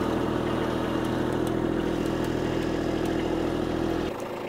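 A steady, rumbling tractor engine in four-wheel drive, wheels spinning in mud, drones loudly at a constant idle-like pitch for several seconds, then abruptly drops away near the end; no talking.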